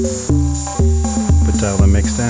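Punchy analog drum synth hits from an Elektron Analog Rytm, ring-modulated through a Moog Moogerfooger, repeat in a steady rhythm, each with a metallic, clangorous tone and a bright high whine running throughout.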